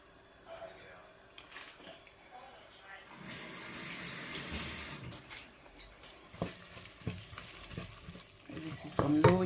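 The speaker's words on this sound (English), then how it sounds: "This is on low heat for it to simmer." Ghana beans stew simmering over low heat in a pot, with bubbling, stirring and sizzle at moderate level, a louder rushing stretch midway and scattered clinks toward the end.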